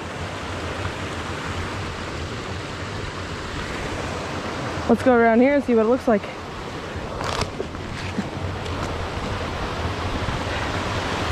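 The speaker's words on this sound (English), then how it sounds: "we just made it to the top of the waterfall" Rushing water hisses as a steady broadband roar. A person speaks briefly partway through, and a short whistle-like warble rises over the noise.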